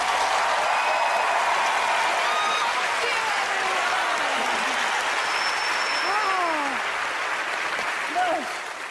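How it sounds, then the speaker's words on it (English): Studio audience applause following a magic trick on a TV magic competition show, a broad sustained wash of clapping filling the whole stretch, with a few whistles and cheers rising over it and fading slightly toward the end. "when you get to witness teleportation, wormholes, black holes, mind power, and optical physics, you should clap"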